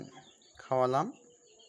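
Young chicken chicks, recovering from a cold-related illness, give one loud, clear cheeping call lasting about half a second, rising over a faint background.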